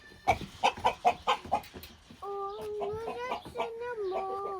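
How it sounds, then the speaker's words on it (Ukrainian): Chickens cluck in a quick run of five or six clucks at a farmyard, followed by voices talking nearby. "Онь курочки."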